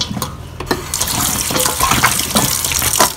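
Tap water runs into a sink while ingredients for a Singapore fish head steamboat soup are rinsed, a close, continuous splashing flow with uneven bursts.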